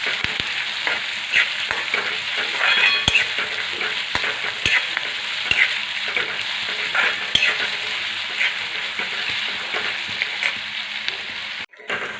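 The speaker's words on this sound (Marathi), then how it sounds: "हा कांदा आपल्याला एकसारखा हलवत भाजून घ्यायचा आहे" Chopped onion sizzles and fries in hot oil in a pan while being stirred evenly, a loud steady crackle with frequent scraping stir strokes close by.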